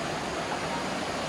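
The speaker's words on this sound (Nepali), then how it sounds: "यो घरबाट भित्र चाहिँ पानी पसेर बाढी चाहिँ यसरी गएछ" Floodwater rushes through a house after heavy rain in Sauraha, Chitwan, Nepal, making a close, steady, dense roar with no break.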